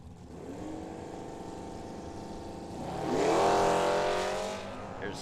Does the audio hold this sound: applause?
no